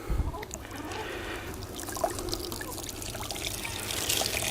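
Excess oily tanning solution drains out of a tanned deer hide, a steady close trickle and pour of liquid running for several seconds.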